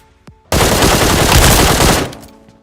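Automatic gunfire in the mobile battle-royale game BGMI / PUBG: one loud, dense burst of rapid shots lasting about a second and a half, close and sharp, then fading out, with no talking.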